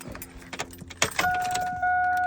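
A Ford Sierra with a near-stock engine and long tube headers idles briefly. Close mechanical clatter and knocks lead into a steady idle with a thin tonal whine.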